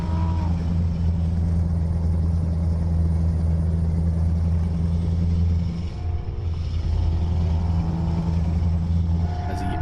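Car in Euro Truck Simulator 2 passes the player's truck, its engine swelling close by over the truck's steady droning diesel hum, with a brief dip and rising whine as it goes past.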